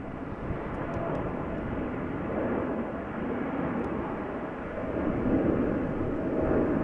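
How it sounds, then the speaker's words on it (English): A Boeing 777 departs from the center runway at Amsterdam Schiphol, its jet engines a steady broadband roar that holds throughout and swells slightly near the end, distant and continuous with no voices. "there's a parallel departure of a 777 taking place from center"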